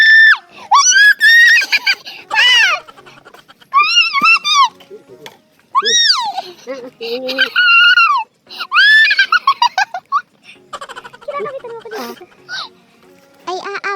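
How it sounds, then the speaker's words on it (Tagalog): A person in a forest screams in fright at a sack while gathering santol fruit, giving loud, high, close shrieks in repeated bursts with short gaps and some shaky vocal sounds between them. "Parang lukarit ang sigaw mo"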